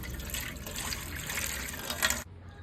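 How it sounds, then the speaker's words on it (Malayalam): Water poured into thick buttermilk in a bowl while preparing pork: a steady, close liquid pour with soft splashing that runs for about two seconds, then stops abruptly, with no talk. "വെള്ളം ഒഴിക്കാം."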